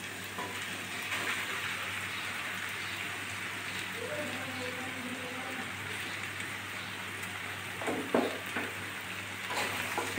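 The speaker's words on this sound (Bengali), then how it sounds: "এখন ভেজে রাখা পটলগুলো দিয়ে দিচ্ছি।" Fried pointed gourd pieces tipped into a hot pan of mustard-based gravy, a soft continuous sizzle with a few scraping clatters near the end.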